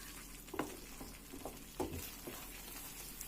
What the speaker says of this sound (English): the masala is getting fried nicely